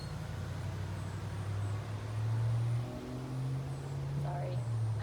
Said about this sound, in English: Sorry, I live near a busy street, so we're hearing a lot of cars right now.